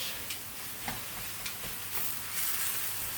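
Steady sizzling of onions frying in a pan, a soft crackling hiss with occasional light taps, no voices.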